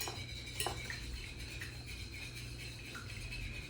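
A utensil stirs peanut butter into a Thai peanut sauce in a bowl, giving faint scraping and light clinks over a low steady background hum, quiet and close.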